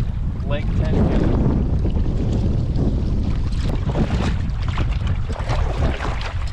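Strong wind on Lake Tenkiller during a kayak fishing tournament, a loud steady roar buffeting close to the microphone with water sounds beneath and a voice speaking.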